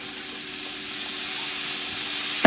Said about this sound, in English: See, that's what you want to hear, the nice fry.